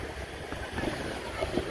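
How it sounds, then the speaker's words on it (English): Wind gusting across an open island beach at a fishing tournament campsite, a steady broadband rush that swells and eases over a couple of seconds, with no voices. "Guys, it's windy out here."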